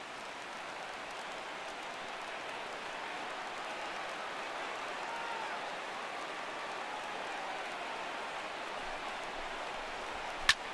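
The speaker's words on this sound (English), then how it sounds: "Now this small but vocal crowd come to their feet." A small crowd in the baseball video game MLB The Show 16 makes a steady, moderately loud wash of cheering and applause, with one sharp click near the end.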